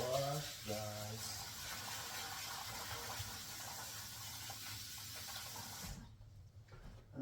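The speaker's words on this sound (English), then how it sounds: "We're just rinsing the rice." Tap water runs into a sink while white rice is rinsed, a steady gushing splash that cuts off near the end, with faint handling noises.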